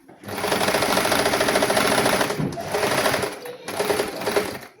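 A sewing machine runs in long continuous stitching bursts along the folded edge of a pant hem, steady and close, with two brief pauses between runs.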